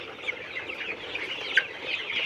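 Colour bird chickens clucking in a poultry shed on a hot day, a steady overlapping chorus of soft clucks and chatter with one sharper squawk, continuous and fairly close.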